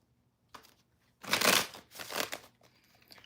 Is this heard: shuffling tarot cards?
yes